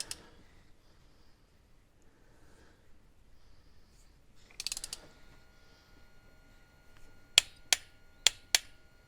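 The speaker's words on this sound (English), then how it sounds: "what I want to do is check that my old torque wrench is still okay" A ratcheting torque wrench on a Nissan GQ Patrol cylinder head gives a faint creak of movement, then four sharp, evenly spaced clicks close by in an otherwise quiet workshop.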